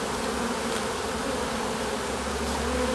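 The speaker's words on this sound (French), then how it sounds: "Quand ça fait ça, c'est que ça dégueule d'abeille." Dense, continuous buzzing of a mass of honeybees at a crowded hive overflowing with bees in late February, a steady loud hum close by with no speech.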